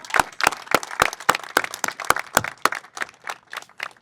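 A round of applause at a City Dock groundbreaking ceremony: a moderate crowd claps in a steady, fairly close patter for a few seconds, with a few sharp individual claps standing out.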